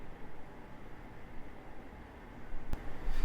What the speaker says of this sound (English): most of the noise you're hearing now is just my air conditioner and my fan